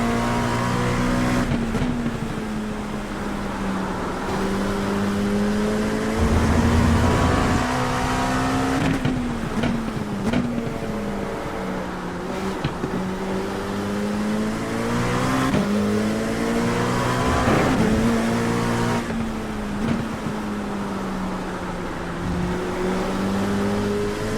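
An LMP2 prototype race car in a racing game, lapping Hockenheim in the rain, its engine droning loud and steady, pitch rising and falling through shifts and corners, with brief tire noise.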